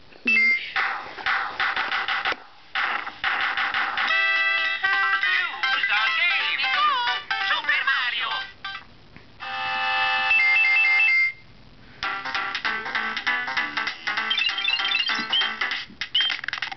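Super Mario game audio plays on the gpSPhone emulator on an iPod Touch, bright electronic chiptune music and bleeping effects in several bursts separated by short gaps, fairly loud and without talk.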